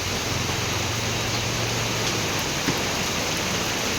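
Heavy rain pours outdoors as a dense, steady hiss of drops on surfaces, loud and unbroken throughout, with a faint low hum briefly underneath.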